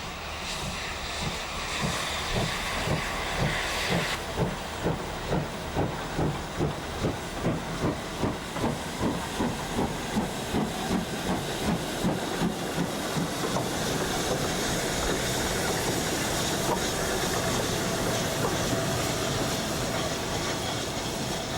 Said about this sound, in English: Steam is back.